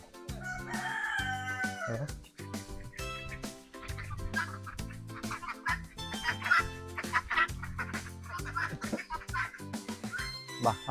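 Domestic geese and ducks call in loud, overlapping honks and quacks, a busy flock close by with barely a pause in the clamor.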